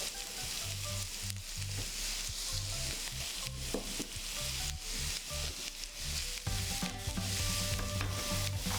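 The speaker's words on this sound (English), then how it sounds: "now I'm gonna add this carrots to be fried" Carrots sizzle and crackle steadily as they fry in hot oil, a continuous close frying hiss running throughout, with some background music underneath.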